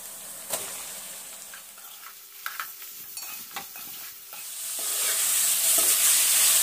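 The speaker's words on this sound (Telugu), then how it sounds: "ఇప్పుడు హాఫ్ కేజీ కీమా వేసుకుంటున్నాం." Half a kilo of mutton keema frying in a pan with onions and green chillies: a few spoon-stirring clicks and scrapes, then a steady frying sizzle that swells louder and fills the last few seconds, with no talking.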